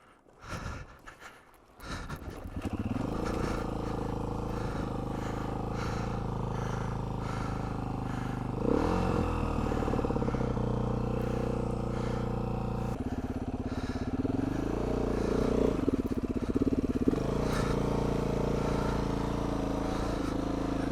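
A 2019 Beta 500 RR-S motorcycle rolls downhill for a bump start; after a short scuffle, a steady engine note catches and runs loud and close for the rest of the stretch, with revs rising and falling, running on a flat front tire.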